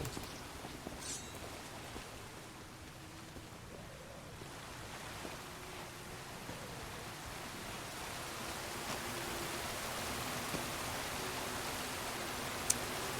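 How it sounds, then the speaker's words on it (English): Waterfall in the pirate video game Sea of Thieves, a broad steady rushing roar that stays even throughout, soft and somewhat distant, with no talking. "I'm going up here or through that waterfall?"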